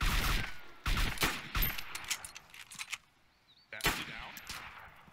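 Loud, close bursts of gunfire in the survival video game DayZ: several rapid volleys of shots with brief pauses between them, then a last sharp burst, with almost no talk.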